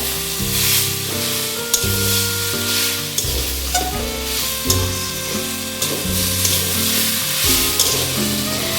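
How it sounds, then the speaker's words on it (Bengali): Taro frying soft in a wok for a taro, prawn and dried fish dish, with a constant sizzle and stirring scrapes over a loud tonal backdrop of music-like harmonic sound, with no voices. "এখানে এক প্রকারের কচুটাকে ভাজা ভাজা করে নিতে হবে, একদম নরম করে ভালো করে।"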